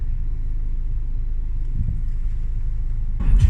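Engine of an 11-year-old car idling after an engine service, a steady low rumble held close and even, with a brief louder disturbance at the very end.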